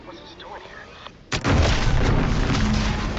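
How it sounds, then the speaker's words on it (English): A sudden loud blast erupts in the video game Outer Worlds 2 after a quieter stretch, its sharp onset giving way to a sustained, rumbling roar. "An explosion?"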